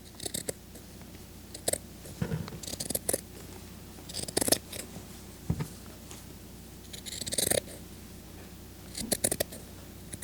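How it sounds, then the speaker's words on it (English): Scissors snipping material for a miniature dollhouse boucle sofa, with several short, quiet cuts in irregular clusters separated by pauses, close up and without talk. "So I'm gonna try to like just cut a sort of straight looking edge."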